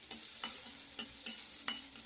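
Manila tamarind (kodukkapuli) frying in a pan, with a quiet background sizzle broken by several sharp stirring scrapes at an uneven rhythm.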